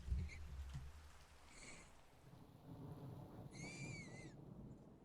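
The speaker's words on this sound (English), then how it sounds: "it's starting to rain." Soft, steady rain falls in Minecraft, played with a Fossils & Archeology modpack, with a low thunder rumble underneath and a few brief high chirping tones, all faint and without talk.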